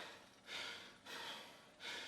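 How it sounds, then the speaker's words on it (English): Heavy, labored breaths after a hard cardio workout, three long audible inhalations or exhalations in slow rhythm, close and breathy, with no speech. "You hear my breathing, right?"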